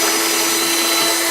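A 1mm drill bores pilot holes in cabinet wood at a workbench, giving a loud, continuous high-pitched whine that holds steady throughout with no pauses or speech.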